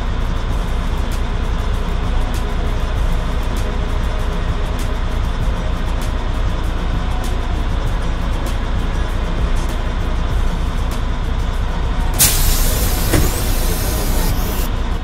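A passenger coach bus in a mobile offroad bus driving simulator game gives a loud, steady engine drone throughout, and a hissing burst comes near the end, with no talk.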